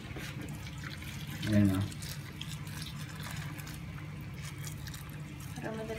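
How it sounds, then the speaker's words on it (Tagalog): Hot water is poured over shrimp in a home kitchen, making a short splashing gush amid light watery trickles while someone talks nearby. "Ubusan ko ng mainit na tubig."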